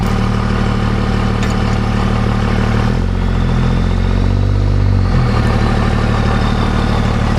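An old Dodge Power Wagon, off the road for over 20 years, runs with a loud, steady low engine rumble and mechanical clatter, the tone dipping briefly midway before settling back, with no talk.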